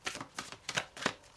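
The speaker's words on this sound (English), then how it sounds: "I just shuffle the mystical shaman oracle that I" Mystical shaman oracle cards are shuffled by hand in quick, quiet papery riffles, four or five soft bursts at close range with no talk.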